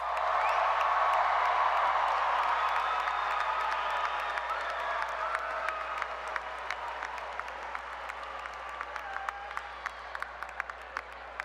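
A large graduation crowd at a 2022 high school ceremony applauds and cheers, loud and dense at first and then thinning into scattered claps toward the end.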